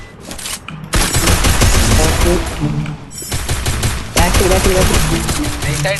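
Rapid bursts of automatic gunfire from a video game rattle loudly in long volleys, with short pauses between and some talk mixed in.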